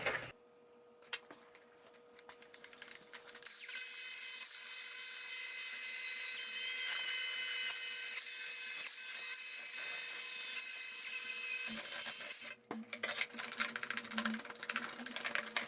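A plastic face shield lens being polished with compound on a powered buffer: a thin, steady high-pitched whine holds for about eight seconds before cutting off, with quieter tool handling noise around it and no talking.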